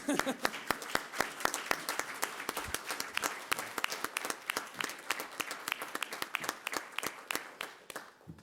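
Clapping from an audience at a school district governing board meeting, a steady stream of sharp distinct claps with no voices, holding for the full stretch.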